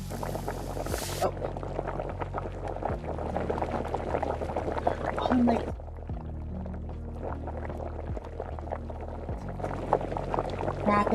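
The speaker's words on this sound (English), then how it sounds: "Rapid bubbling." Rapid bubbling in the cozy game Spirit City, a steady gurgling liquid sound running throughout with a pause partway, while a person speaks briefly over it.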